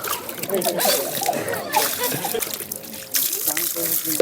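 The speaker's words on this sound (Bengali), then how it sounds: "একটু জল দিয়ে যাচ্ছে একে একটু পরিষ্কার করে নিই" Water is poured over a snake to wash off dirt, giving splashing and trickling in uneven bursts close by, mixed with ongoing talk.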